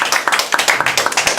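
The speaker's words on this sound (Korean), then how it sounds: "박수 부탁드립니다." An audience at a Green Party leadership candidates' debate claps in a brisk, evenly spaced rhythm, crisp close claps with no talk over them.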